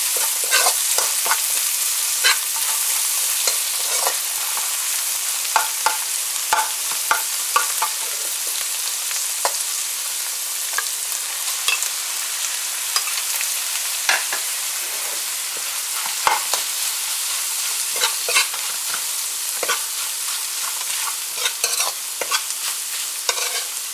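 Onions, celery and pepper stir-fry for egg fried rice, a loud continuous sizzle close by with frequent sharp scrapes and taps of a spatula against the pan, no speech.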